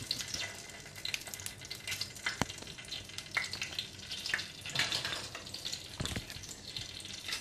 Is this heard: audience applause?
no